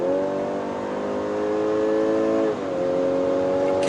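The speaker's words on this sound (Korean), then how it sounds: "이렇게 킥다운을 걸면 E부스트까지, 전기 모터까지 가속에 힘을 보태면서" BMW X3 xDrive 30e plug-in hybrid SUV under kickdown acceleration, its engine and electric motor pulling together in a loud, rising drone that dips briefly as it shifts before climbing again, with no speech.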